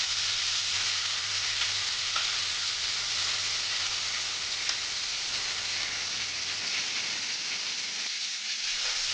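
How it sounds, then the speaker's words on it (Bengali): Fish pieces frying in oil for a Bengali cauliflower and potato dish, a dense, even sizzle crackling steadily throughout, near and fairly loud, with a brief dip in the low hum near the end and no voices. "তো মাছগুলা আগে ভেজে নিচ্ছে"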